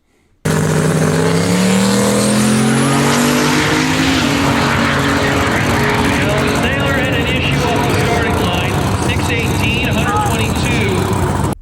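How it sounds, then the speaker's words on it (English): At an eighth-mile heads-up drag race, a turbo Fox body launches against a 1972 Chevy Nova with a 468 cubic inch big block that has an ignition problem. A loud, sustained engine roar climbs in pitch after an abrupt start and fills the whole stretch. "And in the right lane, we have Taylor with a 468 cubic inch big block Chevy powered 72 Nova."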